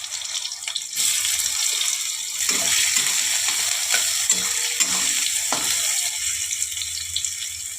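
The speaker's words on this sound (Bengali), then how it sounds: "আমি একটু গোটা জিরে দিয়ে দিলাম, কুচানো পেঁয়াজগুলো ছেড়ে দিলাম" Whole cumin and chopped onions hit hot oil for aloo dum and fry with a loud, steady, close hiss that starts abruptly and holds throughout, with a few spoon scrapes and no voices.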